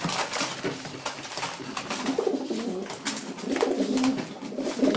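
Pigeons coo softly and repeatedly in a low, throaty rhythm, with faint background rustling and no talking.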